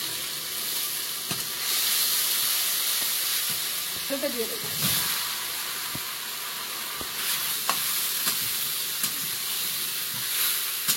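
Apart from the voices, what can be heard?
ginger paste frying in oil in wok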